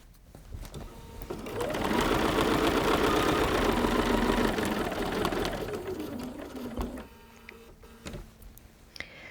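A sewing machine stitches channels across a chenille quilt, a steady close whirring run of about five seconds that slows and stops, followed by light handling clicks.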